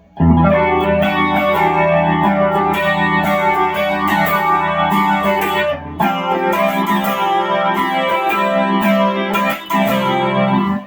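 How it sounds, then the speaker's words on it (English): An electric guitar played through a rotating-speaker effect that makes the sustained chords pulse and shimmer continuously, loud and full throughout. "I want to get that rotating wobbly sound"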